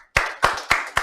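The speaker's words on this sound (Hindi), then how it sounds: "ताली बजाओ" Students clapping in a classroom, four sharp, loud bursts in quick, even succession with no talking.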